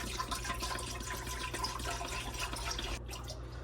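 Cosmic Crisp apple juice pours steadily and continuously into a pot for cider making, a close, unbroken splashing stream with a constant low hum underneath.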